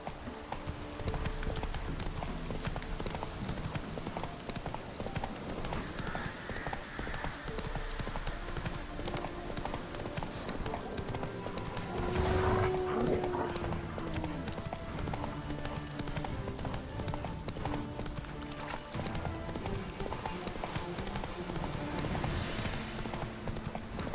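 Rapid clip-clop of the horse Roach galloping in The Witcher 3, steady hoofbeats running throughout over quiet game ambience, with a brief whinny-like tone partway through.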